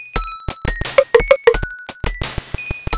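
A bell rings over and over in the 1993 DOS adventure game Goblins 3, with crisp metallic strikes coming in a quick, steady rhythm and bright ringing tones hanging between them. The bell is loud and close, with no talking.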